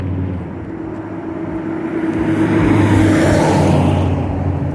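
A truck speeding past on a forest road, its rumble building to a loud peak near the middle and easing slightly afterward, alone without speech.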